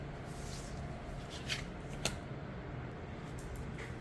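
Tarot cards are shuffled quietly, with soft riffling, rubbing and a couple of sharper flicks over a faint background hum.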